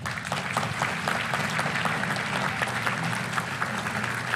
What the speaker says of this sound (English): please give one more round of applause for Riley Gaines.